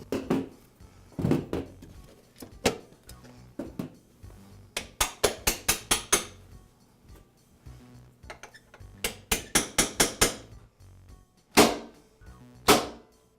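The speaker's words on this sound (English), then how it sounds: "I'll use a hammer to tap the pin through the door and into the other end of the hinge bracket." Sharp metallic hammer taps drive a hinge pin through a Husqvarna lawn mower door into a hinge bracket, some single and some in quick runs of five or six strikes, close and crisp with pauses between.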